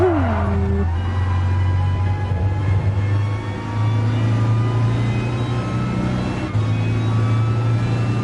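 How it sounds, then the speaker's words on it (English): Race car engine in GT Sport drones steadily at high revs throughout, with a brief pitch shift near the start and a short dip and recovery later, loud and continuous with no talk. "I gotta like feather the throttle if I'm gonna even keep the speed."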